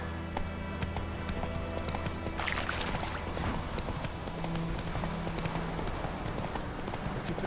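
Geralt's horse Roach in The Witcher 3 galloping steadily, rapid rhythmic hoofbeats on ground running throughout, with a brief snort or whinny and faint game ambience.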